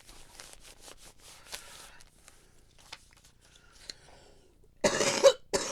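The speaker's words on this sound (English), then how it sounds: "I've got this like nagging cough I can't get rid of" A single loud, close cough near the end, preceded by quiet faint rustling and small clicks.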